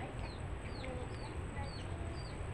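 Soft, scattered clucks from a chicken over steady background noise, with no one speaking.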